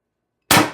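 A single sharp, loud shot from an HPA-powered TR50 air gun firing a 12.7mm ball bearing, with a sudden burst that decays quickly, heard alone and close.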